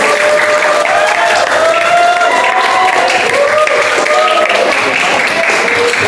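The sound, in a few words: applause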